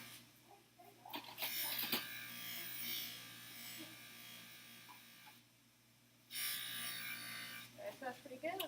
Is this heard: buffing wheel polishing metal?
yes